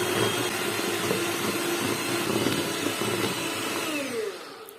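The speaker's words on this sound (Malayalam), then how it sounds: "ഈ മുട്ടയിലേക്ക് പഞ്ചസാര ഇട്ട് കൊടുത്തിട്ട് നമ്മൾ സമയമെടുത്ത് തന്നെ ഒന്ന് ബീറ്റ് ചെയ്തെടുക്കണം" Electric mixer beating eggs with sugar for a cake batter, a steady loud whirring drone that holds constant, then dips and fades at the end.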